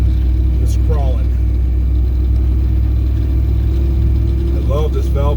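A V8-swapped Ford Explorer with one-ton axles crawls in low gear through snow, its engine a steady loud rumble throughout while people talk briefly inside the cab.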